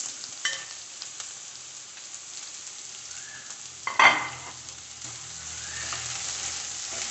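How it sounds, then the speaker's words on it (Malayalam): Onions, garlic, ginger, green chili and curry leaves frying in a pan, a soft steady sizzle broken by a few stirring clatters and one louder scrape near the middle, no voices. "സവാളയൊക്കെ ഒന്ന് നല്ലോണം മൂത്ത് വരട്ടെ."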